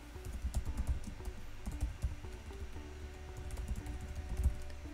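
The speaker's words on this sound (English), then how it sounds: "I'm going to type in my Apple ID." An Apple ID is typed on a computer keyboard, a quiet, close run of soft key clicks in irregular bursts with brief pauses between them.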